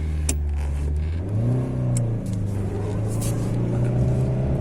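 A Chevrolet Lacetti engine revs up and climbs in pitch, held at a steady roar, close and loud.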